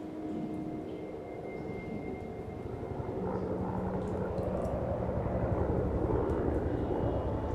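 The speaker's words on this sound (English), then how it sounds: "Sounds like a Huey." A Huey helicopter flies far off over snowy terrain, a steady engine drone and rotor hum that grows slightly louder partway through, distant and without talk.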